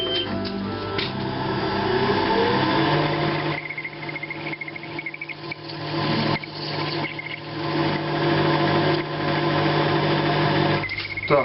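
A metal lathe turns a handle workpiece in a home shop, giving a steady mechanical whir with a tonal cutting whine that rises and falls over eleven seconds, fairly loud, no voices.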